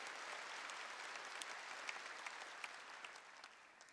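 A church congregation applauds steadily during a sermon, a dense, even wash of many hands clapping with a few sharper claps standing out, no voices above it.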